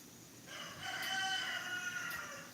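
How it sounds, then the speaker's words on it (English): A rooster crows near a chicken coop, a single drawn-out harmonic call rising and holding, somewhat distant and moderately loud over quiet outdoor background. "that's the chicken coop right down there, Ramses, right there"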